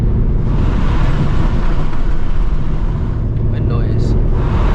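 A straight-piped S650 Ford Mustang GT roars steadily and loudly up close from the driver's seat, a dense continuous exhaust drone that holds a constant level for the whole stretch, with no talk over it.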